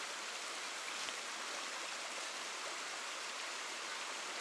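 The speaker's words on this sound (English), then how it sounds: "There's the creek for filtering water." A creek along the Appalachian Trail flows in a steady, even rush of running water, continuous and moderately loud, with no voices over it.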